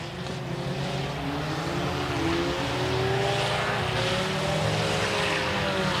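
Stock cars race at US 30 Speedway in a steady, loud roar of several engines, with the pitch rising and falling as the cars pass. Nobody is heard talking.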